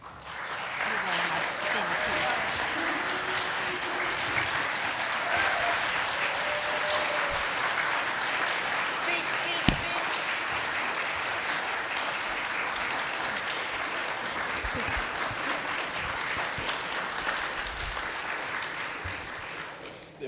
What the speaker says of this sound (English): the people stood up and clapped for Cappy